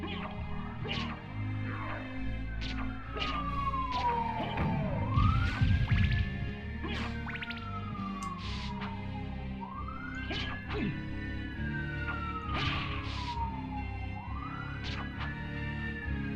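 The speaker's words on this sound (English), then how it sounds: "I'm sorry if you guys can hear a siren" A siren wails in the distance with rising and falling sweeps repeating every few seconds, heard faintly beneath video game music and sound effects.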